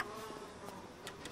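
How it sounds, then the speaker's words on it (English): Swarm of bees buzzing in the video game Bioshock, a steady insect drone with faint higher whines, continuous and fairly quiet throughout. "since the bees have come back"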